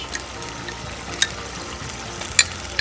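Lamb meat sautés in a pot for an artichoke dish, giving a soft, steady sizzle with a couple of sharp clinks from the spoon or pot standing out over the frying.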